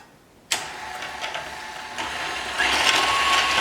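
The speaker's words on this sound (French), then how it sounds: "on règle la vitesse du batteur sur socle à 4." A KitchenAid stand mixer runs at speed 4 with its slicer attachment, starting abruptly into a steady mechanical whir, then growing louder and busier as carrots are fed through and sliced.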